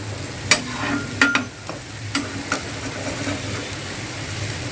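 Steady oil sizzle on a hot griddle cooking a besan pola, with a few sharp scraping clicks early on, close and continuous, no voices.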